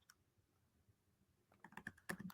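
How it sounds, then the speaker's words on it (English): Computer keyboard typing at a desk, a quiet stretch followed by a burst of close, sharp key clicks and clatter toward the end. "Can you hear me on the keyboard or something?"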